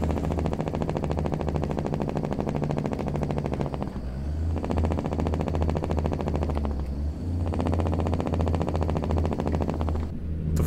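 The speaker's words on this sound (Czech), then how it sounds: "teďka si poslechneme tu motorovou brzdu." Truck engine brake in American Truck Simulator, heard from outside the truck as a steady, loud mechanical rattle and drone that drops out briefly in a few spots before resuming.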